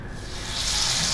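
Pomfret fish slipped onto a hot griddle pan in oil over a high gas flame, with a soft hiss that swells into a steady, loud sizzle.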